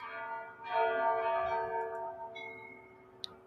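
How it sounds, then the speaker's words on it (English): Top-of-the-hour bells ring out over Kyiv at 10 p.m. on a live city camera, a sustained chime with a steady ringing tone that swells and then slowly fades, moderately distant. "Top of the hour bells."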